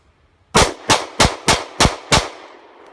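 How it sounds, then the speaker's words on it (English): Jericho 941 pistol firing American Eagle rounds outdoors while plinking, six sharp, loud, close shots at an even pace, each trailing a brief echo, with no voices. "I'm going to go ahead and flip the safety down and puff a few rounds"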